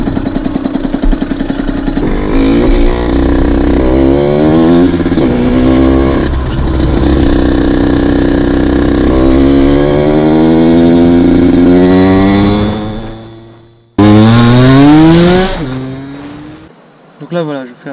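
Small engine running after a carburetor adjustment, a steady buzzing drone with pitch sweeping up and down as the throttle varies, then cutting out briefly before a loud high burst near the end.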